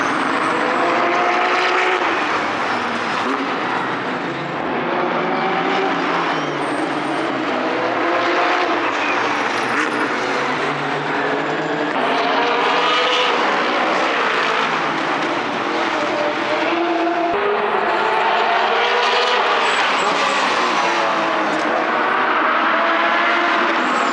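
Porsche Carrera GT3 race cars at an IMSA WeatherTech SportsCar event roar past on the track in a continuous, loud stream of engine wails that rise and fall.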